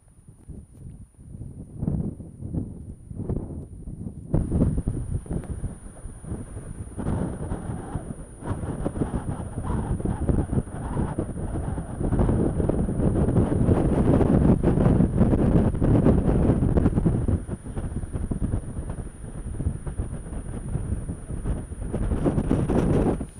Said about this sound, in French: Alors ce vent il est complètement fada